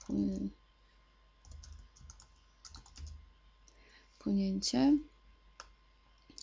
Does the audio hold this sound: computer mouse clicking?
yes